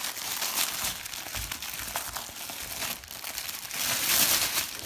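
Knife cutting open a package of bushcraft and survival gear, heard close as a continuous crinkling and tearing of packaging with scraping bursts that swell near the end.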